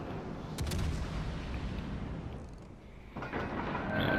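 A gun volley from the cruiser USS Dallas in World of Warships Legends, a heavy rumbling boom that rolls on for seconds, followed by a second swell of firing near the end.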